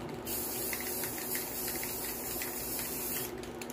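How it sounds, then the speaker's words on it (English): A steady hiss of clear sealer sprayed from an aerosol can onto a tumbler runs continuously for several seconds at close range, then cuts off abruptly near the end. "when you hear me go shh in the background, that's me spraying with the clear sealer"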